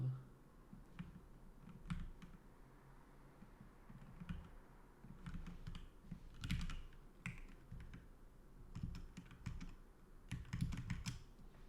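Typing on a computer keyboard, quiet and close, with irregular bursts of key clicks and pauses between them over the whole stretch.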